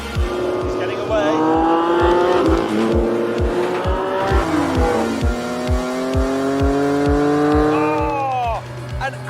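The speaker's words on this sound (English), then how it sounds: "Oh, an angry Countach." A Lamborghini Countach roaring hard during a rolling-start gentleman's race, loud and close, its engine note sweeping up and down through gear changes with rapid popping pulses, while a voice talks over it.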